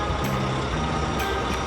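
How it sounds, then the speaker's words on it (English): A crane truck lifting an airplane, heard as a loud, close engine drone with a rumbling low end, and short beeps plus hissing bursts cutting through. "Crane truck lifts the airplane"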